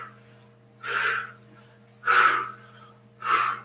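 During a beginners' body-toning workout, a person takes three forceful breaths at a steady rhythm, each a loud, close, breathy rush separated by short quiet gaps, with a low electrical hum underneath.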